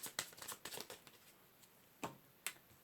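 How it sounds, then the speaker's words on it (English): Tarot cards being shuffled by hand during a reading, giving a quiet run of soft riffling flicks at the start, then two separate crisp snaps after a pause, close and faint with no talking. "Last shuffle."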